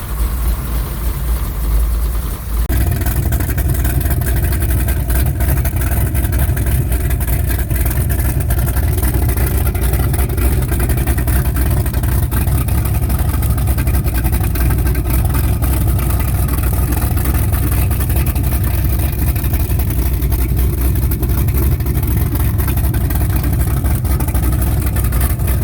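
Engine of a 1986 Wellcraft boat running steadily after startup, a loud, continuous low rumbling idle that kicks in after a short moment and holds evenly, close to the microphone.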